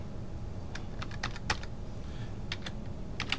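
Keys clatter on a computer keyboard in short irregular bursts of clicks, a few quick strokes then pauses, close and fairly quiet over a steady low room hum, with no voices.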